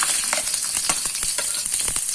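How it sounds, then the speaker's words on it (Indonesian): Shallots sizzle in hot oil in a wok while a stir-fried noodle dish is cooked, giving a steady close crackle with sharp pops and scraping stirs and no voices. "Kasih minyak udah panas, masukin bawang merah"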